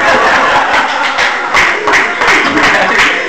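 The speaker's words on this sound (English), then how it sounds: "They're applauding" Comedy club audience clapping and applauding after a joke, with scattered laughter and chuckles in the crowd, a moderately loud burst of uneven claps filling the room.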